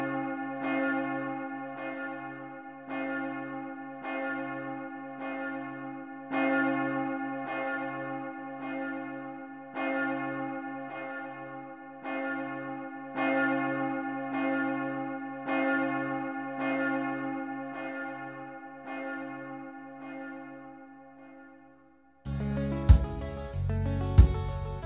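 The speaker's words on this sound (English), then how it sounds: "Listen to the bell." A church-style bell chimes in a steady repeating pattern over sustained tones in a mid-1990s rock song, ringing loud and prominent for about twenty seconds before a burst of band instruments cuts in.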